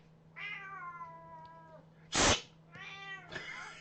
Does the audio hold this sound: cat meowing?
yes